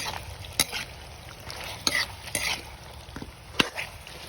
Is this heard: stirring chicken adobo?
yes